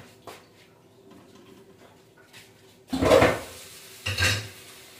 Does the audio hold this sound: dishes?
yes